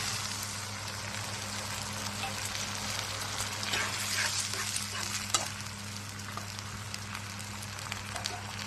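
Paneer sizzles steadily in a hot pan as water is poured in, a dense continuous frying hiss with soft stirring scrapes and a brief louder splash midway, with no voices.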